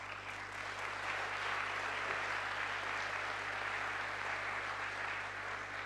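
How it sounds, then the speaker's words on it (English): Convention audience at a closing plenary applauds former Latin American presidents, a steady, moderately distant wash of many hands clapping over a low hum from the hall. "Let's give them a round of applause."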